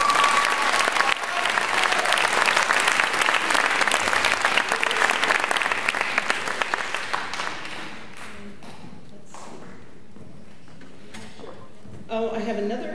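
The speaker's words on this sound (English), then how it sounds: "Let's clap again." School awards ceremony audience clapping loudly and steadily for several seconds, then fading out, with a brief burst of clapping near the end and voices in the background.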